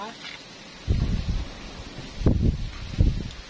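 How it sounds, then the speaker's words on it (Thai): Strong wind gusts rustle tree leaves outdoors on a rainy day, arriving in three loud, close bursts of broadband rustling separated by quieter stretches of background noise. "ลมนะคะลมแรงนะคะ ดูจากต้นไม้นะคะ ลมแรงมากๆนะคะ"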